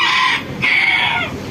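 Chickens on a rooftop garden clucking and calling loudly and close, two drawn-out squawking calls separated by a short pause.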